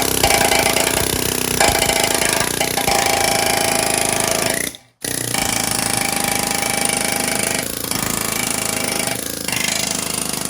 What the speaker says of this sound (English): Cleaning up loose or even tough rust, just blasting it away, getting it all cleaned up.